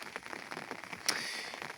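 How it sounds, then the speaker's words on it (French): Moderate to heavy rain patters steadily on a surface nearby at night, dense irregular drops with one sharper crackling tap partway through. "Il pleut de façon modérée à forte"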